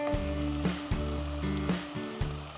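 Crabs fry in a pan for a spicy Telugu crab masala, giving a steady close sizzle with a few louder stirring knocks, no talking.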